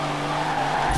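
Mercedes Unimog drifting in Forza Horizon 4, its engine holding a steady droning note while tires squeal and skid continuously through the short burst, ending in a louder rush.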